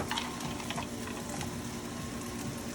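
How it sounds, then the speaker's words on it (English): Frozen peas and cold rice tumble into a hot pan and crackle in a dense, continuous sizzle with faint stirring scrapes, close and even throughout, with no speech. "I'm adding the peas, and I'm going to add in the cold rice"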